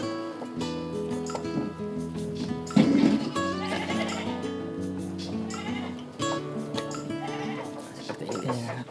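Dairy goats bleat on a farm, several wavering cries overlapping loudly and repeatedly, with people talking faintly under the animals.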